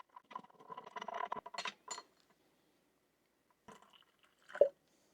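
Swedish military vegetarian kebab stew ration stirred with water in its pouch, soft squelching and scraping in short bursts separated by quiet pauses, with a sharp click near the end.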